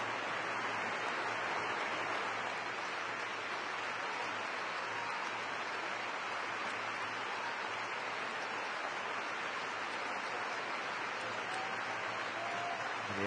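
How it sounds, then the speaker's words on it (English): Steady, sustained applause from a stadium crowd at a women's international football match between England and France, a continuous wash of distant clapping that holds evenly for over thirteen seconds without speech over it. "And the applause continues. A lovely touch from those in attendance here."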